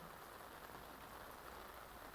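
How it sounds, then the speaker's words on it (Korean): A steady rain shower used as an ambient effect beneath a Korean audiobook reading, heard as faint, continuous, even patter with no gaps. "소나기가 올라."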